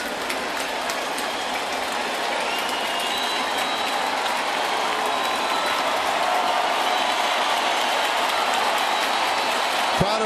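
A stadium crowd of over 40,000 at a Brewers–Yankees baseball game roars loudly and continuously, a dense sustained wash of cheering and noise with no break, building slightly toward the end.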